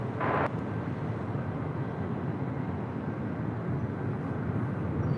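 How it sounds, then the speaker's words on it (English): A United Express Embraer E175LR jet arrives on runway 24 Left at LAX from Fresno, a loud, steady, broadband roar that holds evenly throughout with no talking. "Next arrival here on the north side on 24 left, United Express Flight 4759, coming in from Fresno, California."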